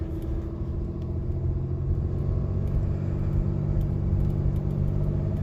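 A RAM 3500 pickup truck engine drones in a steady low rumble, close and continuous, with no voices over it, while in tow haul mode and losing RPM.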